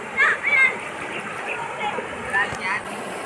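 Water splashes and gurgles in a flowing rocky stream, a continuous rushing wash with a few louder splashes near the start and middle, while voices speak and call nearby.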